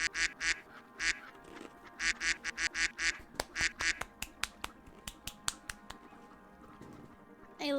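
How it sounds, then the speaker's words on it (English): Duck quacks sound in a rhythmic series of short, nasal honks, a cluster of bursts followed by sharper, quicker ones, close and fairly loud. "can you do the duck sound again?"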